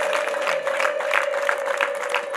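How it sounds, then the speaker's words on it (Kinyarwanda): Applause for the bride's mother at a wedding: a brief burst of steady clapping from a gathered crowd, mid-distance, with a sustained tone running underneath. "Mumukomere amashyi"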